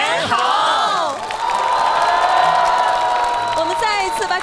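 A large audience at a televised 2023 Greater Bay Area Spring Festival Gala cheers and shouts excitedly, a loud continuous crowd roar with whoops that swells and holds steady throughout.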